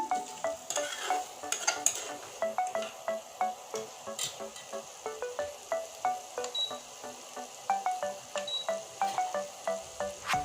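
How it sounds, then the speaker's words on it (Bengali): Rohu fish pieces cooking with potato, onion and spices in a pan give a soft sizzle under a regular rhythm of spoon scrapes and taps, repeating every half second or so throughout. "মশলার সঙ্গে কষানো হয়ে গেছে দেখুন"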